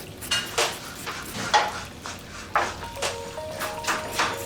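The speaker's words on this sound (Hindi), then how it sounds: "अच्छे से मिलाओ इसे" Food is stirred in a cooking pot with a utensil in repeated, rhythmic scraping strokes, a few clinks against the metal and a faint sizzle underneath.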